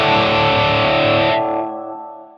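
A distorted electric guitar chord rings out through a TH-U wet/dry amp rig with a custom effects chain at full stereo width, loud and sustained before decaying to a soft tail.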